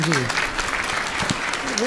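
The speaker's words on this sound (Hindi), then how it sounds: "ताली बजाओ।" An audience at a religious guru's gathering breaking into applause, a dense patter of many hands clapping beneath overlapping voices and chatter.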